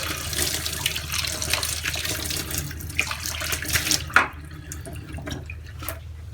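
Tap water runs and splashes while a measuring cup is rinsed at a sink, a steady close hiss of flowing water with sloshing, cutting off near the end to leave faint drips.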